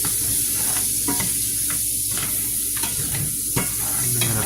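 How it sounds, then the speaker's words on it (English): Butter melting in a hot frying pan, a steady close sizzle and crackle with occasional stirring clicks. "Melt some butter in here."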